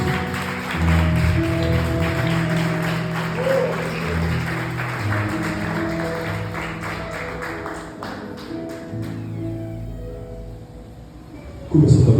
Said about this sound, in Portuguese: Aplauda Jesus se você tem braço para isso.